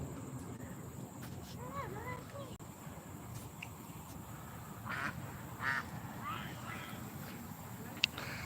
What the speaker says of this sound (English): Them ducks is getting chased out there.